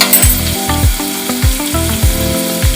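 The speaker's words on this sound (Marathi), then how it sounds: "त्याला पण आपल्याला मस्तपैकी परतून घ्यायचं आहे." Onions sautéing in a pan for a garlic spinach and peas sabzi, a loud close sizzle with regular rhythmic scraping strokes of the spatula, about five strokes across the short stretch, no talk.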